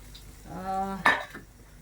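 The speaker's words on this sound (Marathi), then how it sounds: "आता हे टाकू तेलामध्ये तीन दोन पायाने तेल घेतलंय बघा त्याच्यामध्ये टाकलं हे" Coconut, ginger, garlic and onion masala dropped into hot oil for a Maharashtrian black-masala fish curry, a short clatter of a spoon against the pan followed by a brief burst of sizzling, close and fairly loud.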